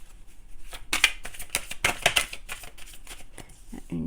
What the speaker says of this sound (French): Alors, on va prendre 3 cartes d'histoire de sorcière.